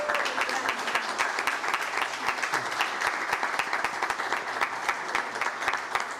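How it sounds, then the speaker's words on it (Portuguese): Standing ovation in a municipal council session, many hands clapping in a fast, steady rhythm that holds loud and even throughout. "Vamos aplaudir de pé."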